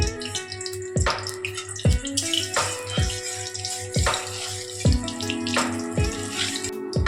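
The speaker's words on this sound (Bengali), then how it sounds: "তারপর কিছুটা পরিমাণ কালো জিরে ফোড়ন দিয়ে নিলাম।" Dried chilli and nigella seeds sizzle in hot oil in a village kitchen, a constant crackling hiss under a steady beat of tonal sounds.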